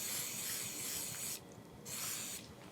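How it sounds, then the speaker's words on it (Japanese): Repositionable spray adhesive sprayed from a can to fix waterproof sandpaper for sharpening a carpenter's gouge: a loud, close, hissing spray in two bursts with a brief pause between. "このスプレーのり、これを貼って剥がせるタイプですね"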